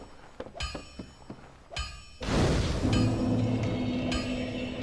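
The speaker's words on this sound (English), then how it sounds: "Bells ringing, anvils clanking." Hammer strikes on an anvil in Dark Souls Remastered land as a few sharp clanks and thuds, the last one ringing on with a humming metallic tail.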